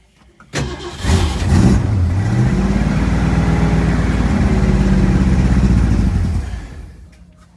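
Engine of a 1964.5 Ford Mustang convertible with a gummed-up carburetor catching and running rough, a loud uneven idle that holds for several seconds and then dies away.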